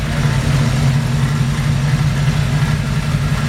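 A 1947 Chevrolet 3100 idles steadily with a small lopey cam, long tube headers and an Edelbrock intake, giving a loud, close, deep rumble that holds an even, unbroken drone throughout.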